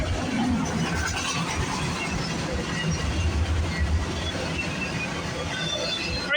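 CPKC freight train with three locomotives passing Milton GO Station in early morning rain at speed, a steady loud rumble and rolling roar throughout with no voices.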